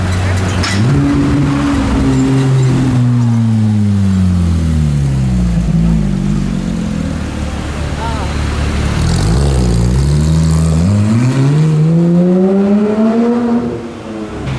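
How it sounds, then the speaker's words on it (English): Audi RS6 in Nardo Grey revving hard at close range near a tunnel entrance, its loud engine note rising and falling through repeated throttle blips and sweeping pitch changes that fill the whole span. "we've just filmed an epic RS6. Loud as hell."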